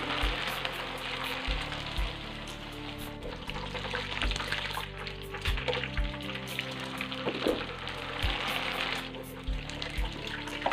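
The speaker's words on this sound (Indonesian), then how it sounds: "Saatnya aku mau goreng kerupuk ya." Long multicoloured kerupuk crackers deep-frying in hot oil, a steady close sizzle and bubbling with low thumps from handling throughout, no talk.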